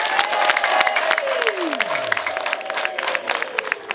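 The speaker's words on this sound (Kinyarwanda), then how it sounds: "Mwongere mumumpera amashyi." Applause from a crowd at an FPR political campaign rally in Musanze, sustained clapping filling the whole stretch with a brief voice or tone sweeping through early on.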